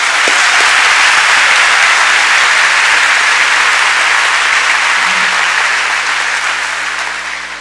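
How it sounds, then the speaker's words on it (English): Loud, dense audience applause at a 2016 convocation, a sustained roar of many hands clapping that holds steady for several seconds and then slowly thins out toward the end. "Let's give them a round of applause."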